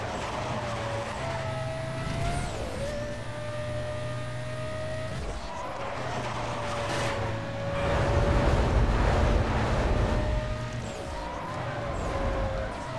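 Racing cars roar through a race in Need for Speed Most Wanted, a steady engine drone with pitch shifts as gears change, swelling louder midway with rushing, gritty road noise, alone without talk.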